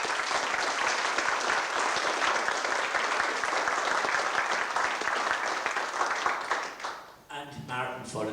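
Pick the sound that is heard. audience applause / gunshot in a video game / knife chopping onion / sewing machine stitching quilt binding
audience applause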